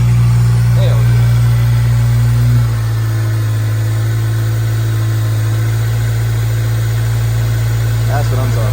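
A 2002 Acura RSX's engine idles steadily up close after an A/C compressor replacement, a strong low hum that drops slightly in pitch and level partway through and then holds even, with brief voices over it.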